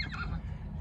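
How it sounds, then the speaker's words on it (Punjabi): A 14-month-old horse foal gives a brief, close neigh, a single short whinny that slides down in pitch and is heard alone. "ਆਹ ਘੋੜੇ ਦਾ ਬੱਚਾ 14 ਮਹੀਨਿਆਂ ਦਾ ਬਛੇਰਾ ਸਜਣੋ, ਇਹਦਾ ਕੱਦ ਚੈੱਕ ਕਰੋ।"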